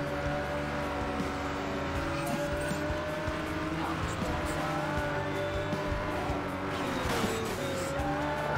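Engine drones steadily as a car drifts in the mobile racing game GearClub Stradale, with tire squeal rising and falling over a constant hum, fairly quiet and sustained throughout.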